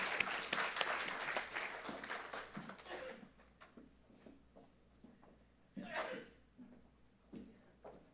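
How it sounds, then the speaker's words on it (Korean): A church congregation gives encouraging applause as a deaconess comes forward to speak: a brief burst of clapping that fades quickly, followed by quiet room noise, scattered taps and faint voices. "우리 집사님 나오실 때 떨지 말라고 격려의 박수로 맞아주겠습니다"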